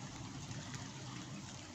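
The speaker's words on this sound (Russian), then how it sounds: "Дождик все утро идет." Morning rain pours down at a summer carp fishing spot, an unbroken steady hiss and patter with low rumble, close and constant over the short stretch.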